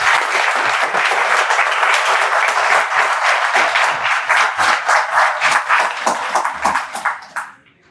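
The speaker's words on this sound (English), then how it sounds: "a very big round of applause" An audience at a UPSC civil services coaching institute event in Hyderabad gives a loud, sustained round of applause, dense clapping that carries steadily for about seven seconds before tapering off and stopping near the end.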